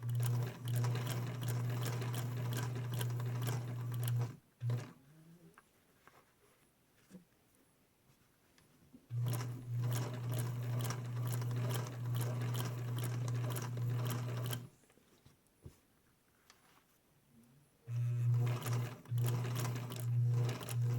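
A Singer sewing machine fitted with a narrow hemmer attachment runs in three steady bursts of rapid stitching, each lasting several seconds, separated by quiet pauses while the fabric is adjusted.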